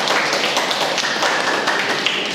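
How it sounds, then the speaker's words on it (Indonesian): A classroom audience at a university teaching session claps for a student group that has just presented, a dense, steady patter of many hands at close range, with no talk over it. "Baik, kita kasih tepuk tangan"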